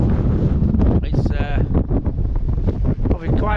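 Wind gusting across an exposed wild camp in the Lake District hills, constant loud buffeting rumble on the microphone with faint voices underneath.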